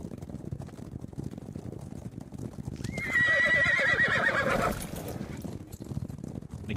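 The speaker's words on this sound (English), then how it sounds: "And again, the terrified shrieking of the horses." A terrified horse gives a loud, shrill whinny in the middle of the stretch, set over a continuous patter of hoofbeats from beginning to end.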